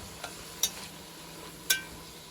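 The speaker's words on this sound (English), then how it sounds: "I really do love the smell of onions. Cooking." Onions cooking in a pan give a soft, steady sizzle, with a few sharp stirring clicks or scrapes against the pan, faint and close, no voices.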